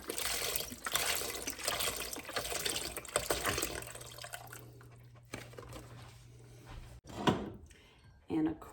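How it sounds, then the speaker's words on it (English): A quart of vegetable broth poured into a soup pot for a French spring soup, a sustained liquid splash and gurgle that fades out, followed by a few clunks and a faint drip. "So I'm going to add 1 quart of vegetable broth."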